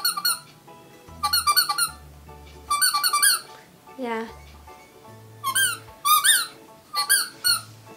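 A squeaky silicone fish dog toy squeaks loudly in bursts of several rapid high squeals, close up, with a short spoken word between squeezes.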